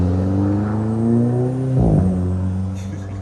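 Car pulling away after an intercooler connector fault, its engine humming and revving up with rising pitch, loud and close, with a surge around the middle.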